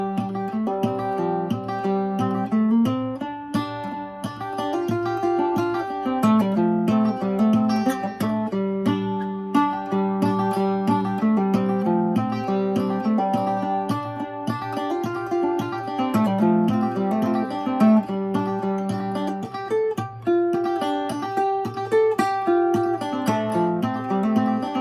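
An acoustic guitar plays the tune Shady Grove in frailing style, a steady, rhythmic strummed-and-picked pattern, close and clear, continuing alone without talk for the whole stretch.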